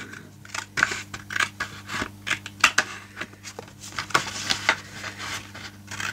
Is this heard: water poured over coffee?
no